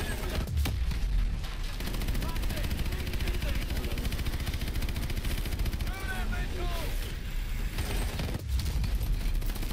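Gunfire in the video game Call of Duty Advanced Warfare, a steady dense barrage of shots under a continuous engine-like rumble, with someone talking over it at times.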